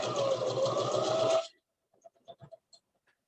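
A sewing machine stitches a quilt block in one steady, close, buzzing run of about a second and a half, then stops, followed by a few faint soft clicks.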